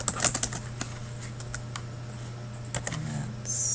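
Typing on a computer keyboard, heard as a quick burst of close key clicks at the start, then scattered taps and a short second flurry near the end, with no speech.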